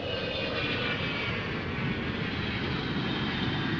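An Avro Vulcan delta-wing bomber flying slowly with a high angle of incidence as it comes in to land trailing a braking parachute, giving a loud, continuous broadband engine roar that holds steady throughout.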